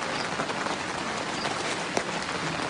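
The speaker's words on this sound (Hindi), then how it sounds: "बारिश और तेज़ हो गई है" Heavy rain pours down steadily in a dense, loud wash of hiss, with no pauses and a single faint tap standing out briefly.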